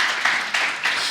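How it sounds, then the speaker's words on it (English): A brief burst of crowd applause, dense clapping that swells in a few waves over about a second. "Can you just give them all a round of applause, please?"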